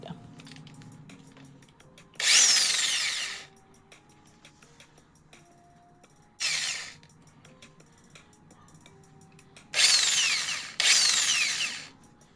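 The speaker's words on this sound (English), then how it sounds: "Drill some of the core of the corns out." A power drill whirs in four bursts, each about a second, boring out the core of corn cobs, with short quiet pauses between them and faint clicks and handling sounds in the background.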